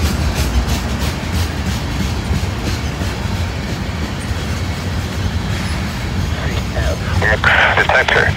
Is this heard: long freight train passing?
yes